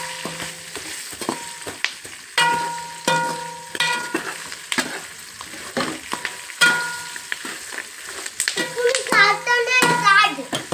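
Curry leaves and snacks frying in a pan, with crackling sizzle and repeated stirring scrapes in uneven bursts, close and loud, with a voice briefly audible.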